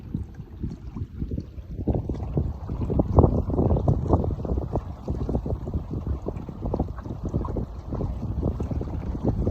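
Wind gusts across Lake Biscotasi during a September fishing trip, a loud buffeting rumble that swells and dips irregularly, probably heard from a small boat on the water.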